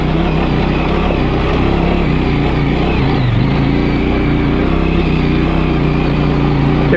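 A motorcycle engine revs hard and steadily on a clay off-road track, loud and close throughout, with a brief dip and rise in pitch midway as the throttle eases and opens again.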